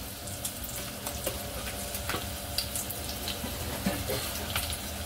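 Ten to fifteen garlic cloves frying in hot oil for a tur dal amti, giving a continuous close sizzle and bubbling hiss with small pops and occasional stirring clinks.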